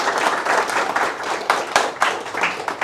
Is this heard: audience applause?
yes